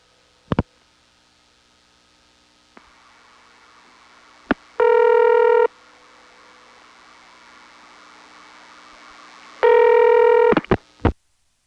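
A 1977 long-distance call placed through an ESS exchange in Smyrna, Georgia: a few sharp clicks, then two bursts of loud ringback tone separated by a long quiet stretch, with more clicks at the end.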